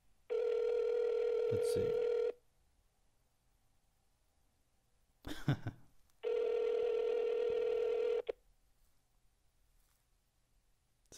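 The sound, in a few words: phone ringing tone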